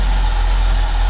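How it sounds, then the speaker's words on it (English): A 1968 Ford Mustang with a 289 V8 and freshly rebuilt carburetor idles roughly, a steady low rumble with slight uneven pulsing, close and continuous with no talk. "1968 engine idling away."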